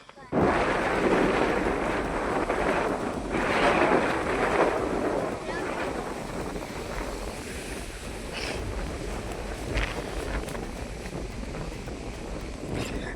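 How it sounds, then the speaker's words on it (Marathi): Deep thunder rolls and rumbles across open farmland during a heavy rainstorm while goats graze a groundnut field, with loud gusting wind buffeting the microphone throughout and no talk. "पाऊस यायची शक्यता आहे, गरजत आहे."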